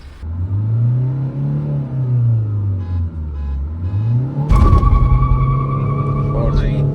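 Toyota Fortuner 2022 and Hyundai Verna 2022 accelerating hard in a drag race, manual sports mode with traction off, engine pitch rising and falling through gear changes, then a louder surge of roar nearby.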